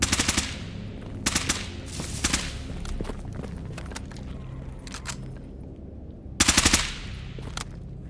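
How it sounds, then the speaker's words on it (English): Gunfire in the video game Stalker GAMMA comes in rapid automatic bursts, including a loud rattling volley near the start and another near the end, with scattered single shots in between. "What are you shooting at?"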